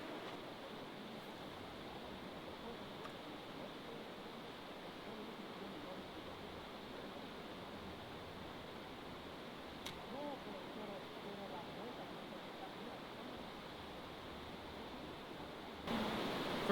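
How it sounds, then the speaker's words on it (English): The Kern River runs as a steady, even rush of moving water heard from the bank at a fishing spot, constant and fairly soft with no voices over it. "That bit of running water right there."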